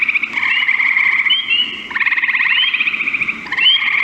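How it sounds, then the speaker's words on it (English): A chorus of frogs calls in a steady, overlapping trill near a vernal pool, loud and close, with high peeping notes repeating over a continuous buzz and no voices. "Everyone's heard of spring peeper, I'm sure."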